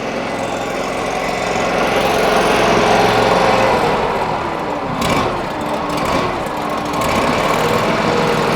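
HotJet 2 trailer-mounted jetter with a 37 HP fuel-injected engine running steadily while warming up in bypass mode, a continuous close mechanical drone with a brief rattling knock midway.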